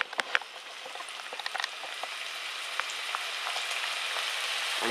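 Drained mushrooms crackle and sizzle in a hot pan on the stove, a steady close frying hiss with scattered pops, growing slightly louder toward the end.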